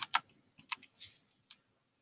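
A few soft, quick keystrokes on a computer keyboard tap out in an uneven burst, then a last isolated click, quiet and close with no talking.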